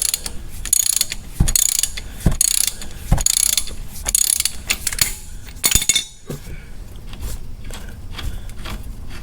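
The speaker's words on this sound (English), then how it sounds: "I had to get a cheater bar to break it loose." Ratchet with a cheater bar turning a 21 mm bolt on a PT Cruiser, a close, loud run of rapid metallic clicks in bursts, easing into quieter scattered clicking.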